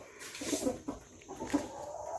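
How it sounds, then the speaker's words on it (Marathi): A hen and a rooster cluck softly nearby in short, irregular bursts, a few quiet calls over a calm outdoor background. "कोंबडी खायला येत कोंबडा पण आलाय"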